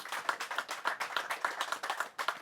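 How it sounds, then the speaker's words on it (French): Applause at a local investment awards ceremony in Châteauroux, a smallish group clapping in a quick, distinct rhythm, individual claps clearly audible, moderately close, with no speech over it. "encore une dernière salve d'applaudissements, bravo, félicitations"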